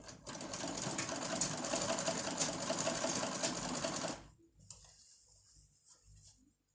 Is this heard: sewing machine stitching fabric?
yes